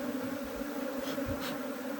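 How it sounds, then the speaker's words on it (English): A huge swarm of Africanized honey bees clustered in the back of a truck gives a dense, continuous buzz, close and steady, with individual bees droning past. "There's a huge swarm, a huge cluster in the back of my truck."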